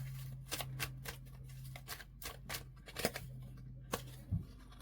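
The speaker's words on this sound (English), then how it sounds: "You guys saw me shuffling." Rapid riffling and slapping of tarot cards being shuffled, a string of crisp broadband bursts over a steady low hum, close by with no talking.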